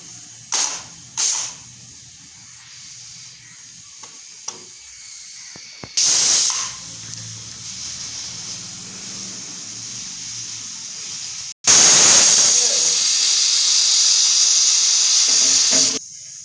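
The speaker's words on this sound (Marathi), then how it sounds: "आता आपण हे कुकरला लावून चार पाच शिट्ट्या करून घेऊत" Loud steady hissing of steam escaping from a pressure cooker in long bursts, rising to a strong continuous whistle blast near the end, with a few sharp clicks earlier.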